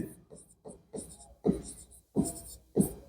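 Pen scratching on paper while working a class 10 coordinate geometry problem, a series of short, close strokes in bursts separated by brief pauses, growing a little louder toward the end.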